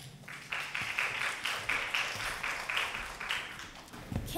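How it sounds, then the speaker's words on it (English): Audience applauding drama students at a school drama coursework performance, a steady wash of many hands clapping through the whole stretch with no one speaking. "let's give a big round of applause to Alina and Karen"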